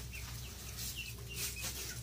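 Backyard chickens squabble over a piece of lettuce, chasing one another in a game of keep away, with soft clucks and chirpy calls scattered over a steady low outdoor hum at moderate distance.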